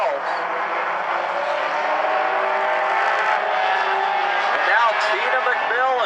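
Mini stock race cars circle South Sound Speedway, a line of engines roaring and whining past with rising and falling pitch, while a commentator talks over the track noise.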